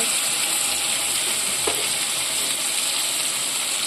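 A pan of spice paste for a sarputi fish and cauliflower curry fries with a steady, loud sizzle, an even hiss that continues throughout.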